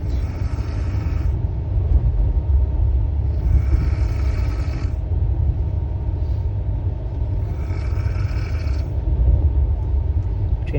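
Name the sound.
train rumbling while travelling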